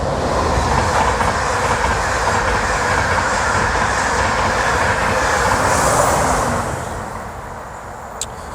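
A train rolls past on rail lines beside an old mining pit site, a loud, steady rumbling roar with a faint rhythmic clack that fades slightly toward the end; no talking.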